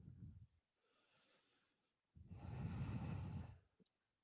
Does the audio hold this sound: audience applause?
no